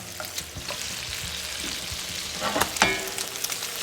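Trout fillet frying in butter in a pan, a steady close sizzle with a few sharper crackles and pops near the end, no talking.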